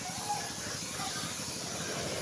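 Continuous hissing spray of metallic silver paint from a spray can onto a carbon forged pattern, steady and close without pauses or voices.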